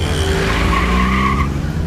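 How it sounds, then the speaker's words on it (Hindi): A car's tires skid as it drives off in a Hindi movie scene: a loud, continuous screech over engine rumble, close and sustained for the whole moment. "गाड़ी आगे लो।"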